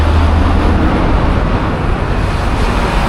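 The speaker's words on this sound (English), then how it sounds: "It's also loud here. I'm at a major intersection." Dense, continuous roar of traffic at a busy intersection in Oaxaca, engines and tires blending into a loud, unbroken wash of noise nearby.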